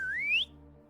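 One rising whistle sweeps upward for under half a second, clear and fairly close, aimed to catch someone's attention, then drops away to a low steady hum.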